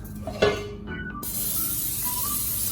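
A short hissing burst of cooking spray into a pan sounds close by, followed by a faint clink and a steady background hiss.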